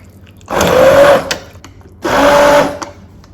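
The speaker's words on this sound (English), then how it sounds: "I use a stick blender." Two bursts of a stick blender whirring through hot vegetable soup, each about a second long with a steady motor whine, loud and close, with a short pause between them.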